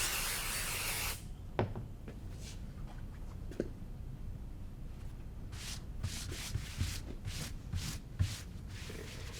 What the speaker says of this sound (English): you can put some extra spray along the edges if you wish